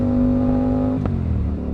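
An Aprilia RS457 sport motorcycle with a full-system aftermarket exhaust revs hard with a steady high whine, then drops sharply as it downshifts, leaving a lower throaty drone, close and loud.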